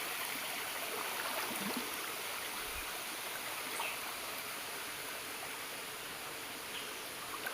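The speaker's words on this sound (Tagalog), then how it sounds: "May busay mga idol oh." Waterfall in a forest setting, a steady broadband rush of falling water filling the scene continuously at moderate level, with no voices over it.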